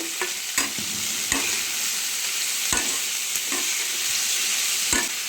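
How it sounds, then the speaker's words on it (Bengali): Millet noodles with salt stirred in a pan, a steady close sizzle broken by sharp spatula scrapes and knocks against the metal at irregular intervals. "ভালো করে নেড়ে চেড়ে নেব।"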